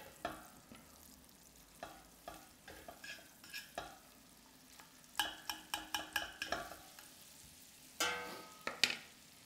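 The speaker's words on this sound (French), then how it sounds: "j'ai fait revenir l'ail, les oignons, le thym, le laurier et le romarin" Garlic, onions, thyme, bay leaf and rosemary sauté in a pan, with a soft sizzle under frequent scraping and stirring clicks that come in quick bursts, close and without talk.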